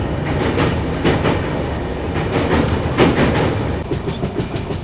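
The New Delhi–Prayagraj Humsafar Express crosses the Yamuna river at night, its wheels giving a steady, loud clickety-clack of rail joints over a constant rumble heard from inside the coach.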